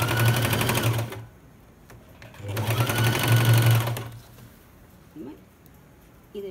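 A sewing machine stitches patiala pant fabric in two rapid whirring bursts of about a second each, separated by quiet pauses with faint handling clicks, close and clear.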